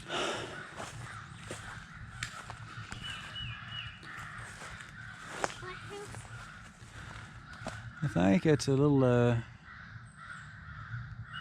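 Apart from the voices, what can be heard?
crow cawing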